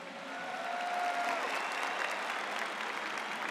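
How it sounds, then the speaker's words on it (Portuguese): A church congregation applauds in honour of the Virgin Mary, a steady wash of many hands clapping that swells in and holds at moderate level, with a faint sustained tone briefly beneath it. "A Virgem Maria, vamos aplaudi-la."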